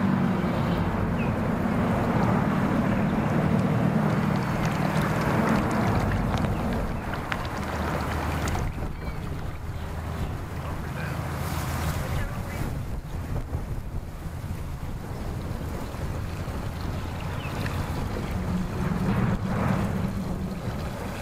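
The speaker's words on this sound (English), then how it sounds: "Yeah, it is real windy out here." Strong wind gusting at a boat ramp by the water, a steady loud roar buffeting the microphone throughout, with rumbling low noise and no voices.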